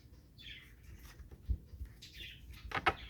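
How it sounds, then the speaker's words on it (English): Parakeets chirp in short bright bursts nearby, with a few soft knocks and rustles between calls; no voices. "You guys can hear my birds. Those are my parakeets."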